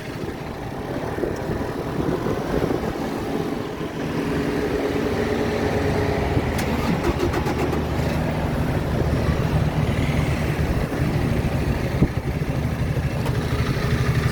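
A Honda CRF 300 enduro motorcycle engine runs with a steady, moderately loud rumble that holds an even level throughout.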